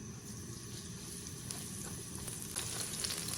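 Scallion and ginger crackle in a little hot oil in a wok, a faint, steady sizzle with a few sharper spits and pops growing slightly busier toward the end, no voices.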